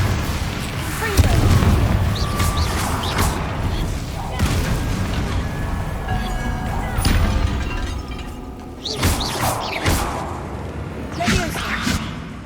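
Repeated Confringo spell explosions in Hogwarts Legacy gameplay, several heavy booms and crashing bursts spaced across the stretch, with rumbling low-end between hits and a voice calling out spells under the blasts.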